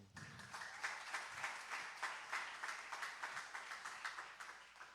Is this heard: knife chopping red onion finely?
no